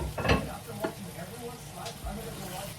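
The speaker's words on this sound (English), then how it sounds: "I'm adding the chopped tomatoes from the can. Now I'm going to let it cook for" Canned chopped tomatoes cooking in a pot, giving a low, uneven bubbling sizzle broken by a few sharper knocks and clatters near the start.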